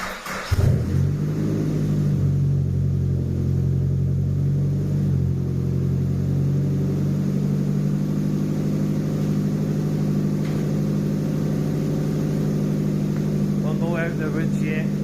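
A restored Nissan Pulsar GTI-R engine idles steadily with a deep, continuous rumble, occasional faint spits and pops in the exhaust, recorded close up throughout.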